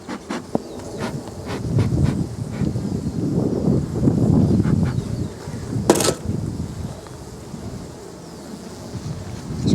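Honeybees buzzing around opened hive frames, a dense steady hum of many insects close by with light wind noise and occasional handling knocks, no talk.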